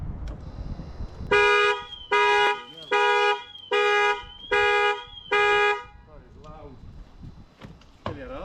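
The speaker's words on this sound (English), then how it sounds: "Always know where the alarm siren is before you connect a boost pack." A car alarm siren on a Land Rover Discovery blares in six loud, evenly spaced pulsing bursts, followed by a few quieter chirps, with a voice briefly audible around it.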